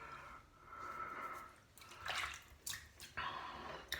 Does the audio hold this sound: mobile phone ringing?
no